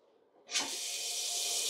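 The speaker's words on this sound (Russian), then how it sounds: "Нормальный напор воды." A sink tap in a modern modular house turns on abruptly, then a steady, close, full hiss of running water carries on to the end.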